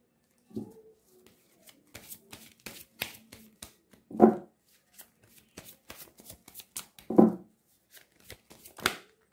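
Tarot cards shuffled by hand during a reading, soft riffles and sharp flicks with a few louder slaps of the deck, close but fairly quiet, with no talking.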